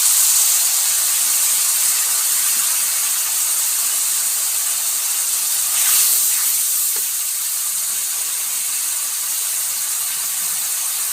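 Soaked tamarind pulp poured into fried bitter gourd in a hot pan raises a loud, steady hiss of sizzling steam that continues unbroken, with a brief swell partway through.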